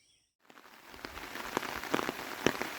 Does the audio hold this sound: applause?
no